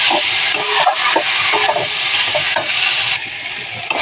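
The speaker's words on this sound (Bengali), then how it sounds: "লাউ শাকটা দিয়ে এবার নেড়ে ছেড়ে চাপা দিয়ে দেবো" Bottle gourd greens and carrots being stir-fried in a pan, loud close sizzling with frequent clattering spatula scrapes in an uneven rhythm.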